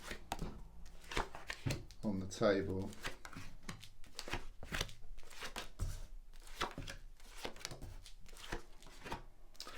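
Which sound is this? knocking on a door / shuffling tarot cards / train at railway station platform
shuffling tarot cards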